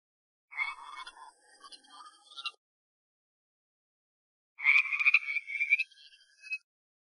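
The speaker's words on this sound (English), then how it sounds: "Frog." Frog croaking in two separate bursts of raspy, rapid calls with a pause between them, close and clear with no other sound.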